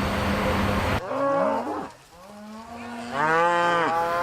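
Cattle on a Nevada County, California ranch low out in a series of loud, drawn-out moos, one after another and close by, with no talk over them.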